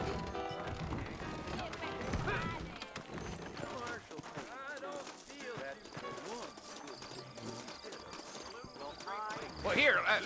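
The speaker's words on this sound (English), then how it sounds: "I got the horses saddled up and ready out front." Rhythmic hoof clip-clops from saddled horses in the video game Red Dead Redemption, over steady background music and occasional talk, with a brief whinny-like sound near the end.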